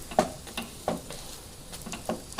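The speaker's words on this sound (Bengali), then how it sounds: "এইভাবে পরোটাটাকে খুব ভালো করে ভাজতে হবে।" Paratha frying in a pan, with a quiet sizzle and a few short stirring or scraping strokes at intervals, close but faint, no talking.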